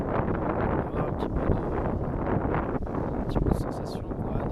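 Wind blowing across a heeling sailboat at sea at night, a steady broad rushing roar with gusty buffeting and occasional splashy bursts, continuous and close to the microphone.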